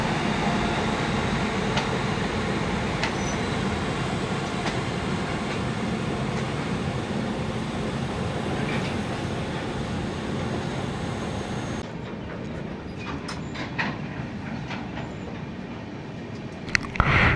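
A goods train hauled by a WG12 electric locomotive rumbles past near the Bokaro Steel City goods yard, a steady loud roar of wheels and rolling stock that drops to a quieter hum with faint clicks near the end.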